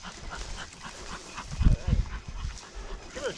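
A hunting dog at a bird-hunting game preserve pants and gives short whimpering yips, close, with light rustling and background noise around it.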